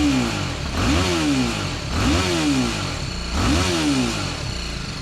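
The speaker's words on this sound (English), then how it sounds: "And here is a reminder of what the stock exhaust sounds like." BMW G310 R motorcycle on its stock exhaust with muffler, revved repeatedly: three or four rising and falling revs in a steady rhythm, loud and close, with a buzzy, even tone and no voices.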